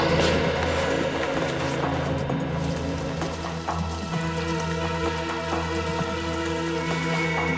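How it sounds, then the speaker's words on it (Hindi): Water flowing steadily outside, a constant patter and wash with a low hum underneath, holding at an even moderate level with no talking. "बाहर से कुछ आवाजें आ रही हैं, जैसे पानी बह रहा है।"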